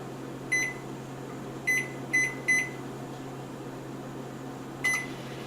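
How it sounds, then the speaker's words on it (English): Microwave oven cooking cauliflower hums steadily in a kitchen, punctuated by five short beeps, three of them bunched together, with no talk. "Go ahead and stick it in the microwave."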